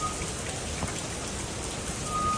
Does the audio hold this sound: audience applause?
no